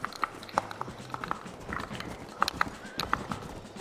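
Horse hooves from the video game Red Dead Redemption clip-clop in an uneven trotting rhythm, sharp clicky strikes over a low background hum, fairly close, with no voices.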